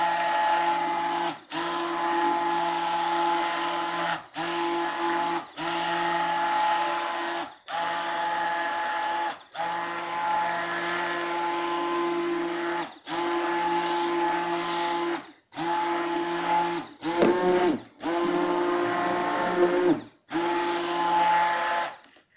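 A blender whirs steadily as it beats a homemade liquid soap mixture, running in long loud bursts separated by brief pauses, with no talk.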